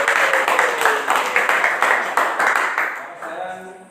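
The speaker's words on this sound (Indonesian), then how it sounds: "kalau tidak sekali lagi kasih tepuk tangan buat kelompok" A classroom of students claps for a student group after its presentation, the applause falling into a quick, regular rhythm before thinning and tapering off near the end.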